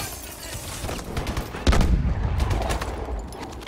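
A smart grenade going off in the Call of Duty: Advanced Warfare campaign, a sharp loud blast rising out of a steady crackle of gunfire, then a rumbling tail as the shooting carries on.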